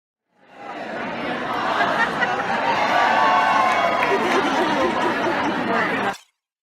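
Crowd of quilt festival visitors waiting at the doors in Hampton, Virginia, a dense steady roar of chatter and cheering with some laughter, swelling in quickly and holding loud for several seconds before cutting off.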